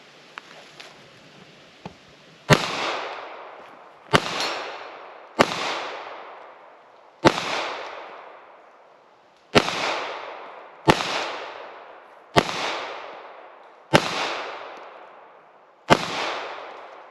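FN Reflex pistol fired at a shooting range, about nine sharp, loud shots at irregular intervals of one to two seconds, each with a short decaying echo, after a few faint handling clicks.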